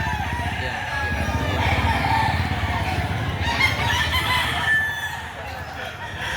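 Chickens and roosters at a Saturday chicken market in Lipa, Batangas, with roosters crowing repeatedly and hens clucking over a busy background of crowd murmur.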